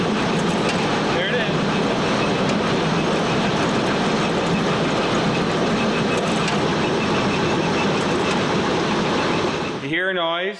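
A Case IH 2366 combine runs with a broken paddle, giving a loud, dense mechanical clatter with a rapid rhythmic knocking that carries steadily throughout. A speaking voice is mixed in.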